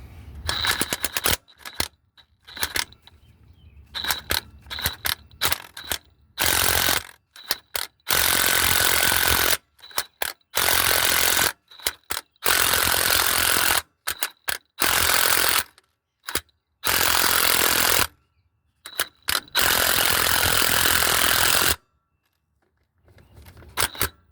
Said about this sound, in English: So now I can finish getting this in by using my impact.